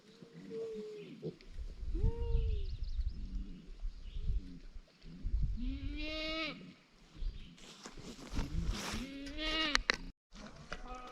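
Goats bleating on a farm, several wavering, nasal calls overlapping at close to moderate distance, with low rumbling background noise and no talk.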